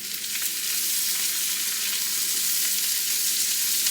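Cut meat sizzles loudly and evenly as it browns in a stir-fry pan alongside vegetables in a home kitchen, a close, continuous hiss with no voices.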